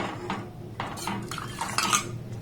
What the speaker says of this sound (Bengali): এটাকে এইভাবে একটু নাড়াচাড়া করব